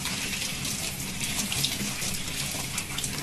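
Shower water running steadily in a cold shower, a constant hissing spray with no pauses, fairly quiet and without talk.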